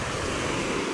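Big, powerful ocean waves churn during a typhoon, a dense, continuous roar of surf mixed with gusting wind noise, loud and steady with no voices.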